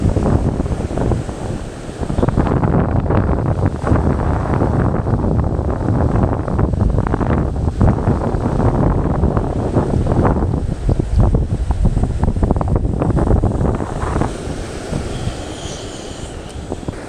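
Sea waves surge around a small fishing boat in rainy monsoon weather, with loud, constant wind buffeting the microphone and rushing water. The roar eases slightly near the end.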